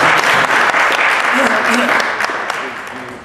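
Loud, dense applause from an audience at a community gathering, a full burst of clapping that starts strong and gradually tapers off, with voices talking over it.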